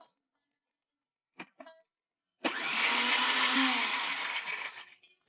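A few clicks come first, then a kitchen blender roars to life, grinding crushed ingredients with water into a puree in a loud, steady whir for about three seconds before stopping.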